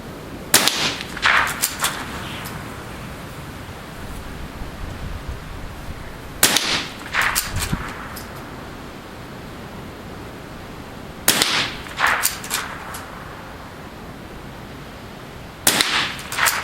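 Four sharp rifle reports from a Mossberg & Sons 46M firing Federal rounds outdoors, spaced several seconds apart, each a loud crack followed by a short decaying echo, with quiet field ambience between shots.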